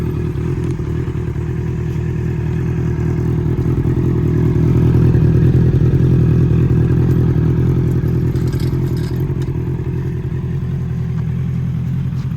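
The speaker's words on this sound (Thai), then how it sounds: "เสียงเครื่องกันครับ" A 2019 Honda CBR650R motorcycle engine, fitted with aftermarket parts, runs steadily nearby, a constant loud rumbling idle that swells slightly in the middle, with faint mechanical clatter.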